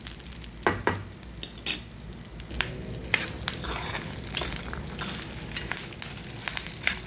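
Ingredients for a chutney frying in a pan: a steady crackling sizzle with repeated scraping and stirring knocks from a spatula, close and fairly loud throughout.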